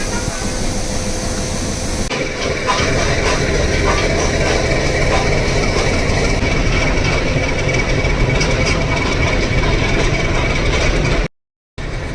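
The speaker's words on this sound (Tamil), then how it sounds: "வேறு ஒரு ரயில் ஒன்று வருது, இது வந்து ஊட்டியிலேருந்து வந்திருக்கு." Diesel-hauled Nilgiri mountain train from Ooty arriving at Coonoor, a steady loud rumble of engine and rolling wagons running throughout, with a brief dropout near the end.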